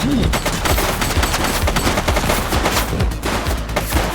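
Rapid bursts of gunfire in the police video game The Precinct crack out in quick succession, loud and close, a dense volley of shots with no talk over it.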